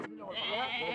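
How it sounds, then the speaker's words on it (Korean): Hungry, thirsty goats in drought-stricken northern Kenya bleat loudly and close by, one long wavering cry held for about a second after a brief onset. "가장 먼저 물맛을 보는 것은 굶주리고 목말랐던 염소들입니다"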